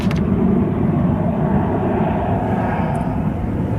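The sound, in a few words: Lauda Airbus A320 jet aircraft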